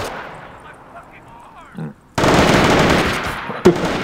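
Gunfire in the video game Company of Heroes Modern Combat: faint activity and quiet talk at first, then a sudden loud sustained burst of machine-gun fire with a sharp extra shot near the end.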